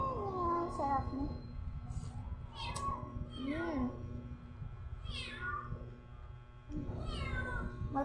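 A cat meows repeatedly in rising and falling calls, close and clear, over a steady low hum in a home kitchen during a meal of batchoy.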